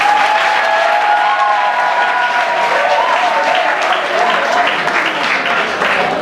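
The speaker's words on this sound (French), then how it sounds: "Applaudissez les champions," Guests at a wedding celebration applaud in a loud, sustained round of clapping, with faint voices and a tonal hum running underneath.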